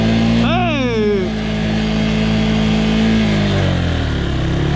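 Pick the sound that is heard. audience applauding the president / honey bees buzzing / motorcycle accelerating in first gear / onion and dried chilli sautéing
motorcycle accelerating in first gear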